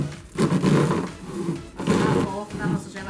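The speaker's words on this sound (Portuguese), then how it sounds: "Agora eu vou cortar aqui e mostrar pra vocês como que ficou." A cardboard box is cut to form the door of a toy fridge, with loud, close, rasping bursts of the blade tearing through the cardboard in two or three long strokes.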